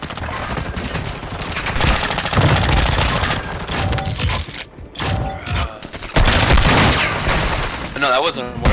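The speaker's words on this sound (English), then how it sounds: "I did a precision airstrike." Gunfire and explosions from an airstrike in Call of Duty: Modern Warfare II, a loud continuous barrage of rapid shots and heavy blasts, with players talking over the action.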